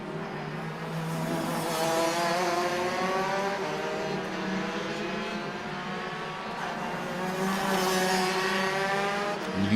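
Rotax karts race on lap 13 at Zwartkops Raceway in Pretoria during the 2023 Rotax Nationals African Open, their high two-stroke engine whine rising and falling continuously as they pass, with no voices.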